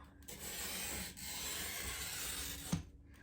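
A steady, gritty scratching as a glass cutter scores across a glass sheet in one continuous stroke, ending with a small tap.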